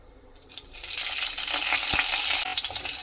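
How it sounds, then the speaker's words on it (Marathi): Cumin seeds and green chillies frying in hot oil, a loud, dense crackling sizzle that swells within the first second and holds steady, with one brief low thump partway through. "छान असं तेलावरती मिरची भाजून घ्यायची"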